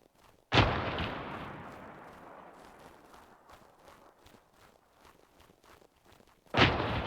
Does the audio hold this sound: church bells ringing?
no